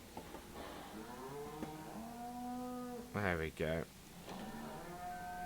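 Cows low in a barn in the Farming Simulator 17 game, a long drawn-out moo followed by two louder, closer bursts, with someone talking casually over the animals.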